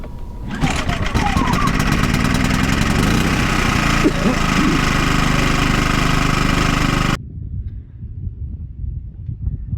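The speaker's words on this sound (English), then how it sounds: "We don't have to worry about this stinking generator." An RV generator in Quartzsite runs with a loud, steady mechanical engine drone and rattle, then cuts out abruptly, leaving only faint background noise.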